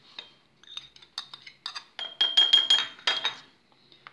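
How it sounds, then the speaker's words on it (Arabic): Ingredients are dropped into a glass bottle, producing a series of sharp clinks and taps, irregular at first and then a quicker cluster, close and clear without speech. "أما هنا سوف أخذ قنينة زجاجية وأضع فيها المكونات"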